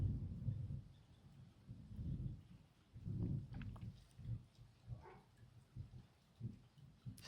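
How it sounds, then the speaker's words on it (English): Rolling thunder in Hawaii, faint and distant, low rumbles swelling and fading in several uneven waves over about seven seconds with no talk. "Just heard rolling thunder here in Hawaii."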